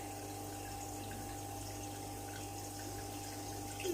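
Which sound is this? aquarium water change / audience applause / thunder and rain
aquarium water change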